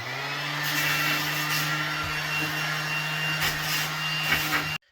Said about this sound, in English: now I'm going to use my random orbit sander. I'm going to clean up the edge